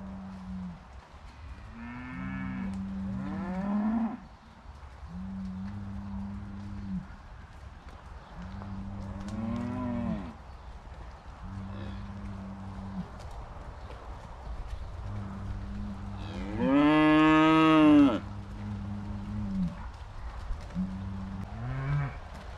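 Cattle on a farm moo again and again, long, loud, deep calls spaced through the stretch, with one especially strong bellow near the end and a low steady hum underneath.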